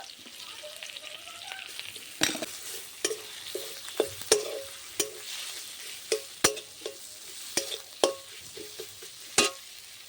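Green pea paste fries in a pan with ginger and chili, a soft sizzle under repeated sharp spatula scrapes and taps as it is stirred in irregular strokes, close and without voices.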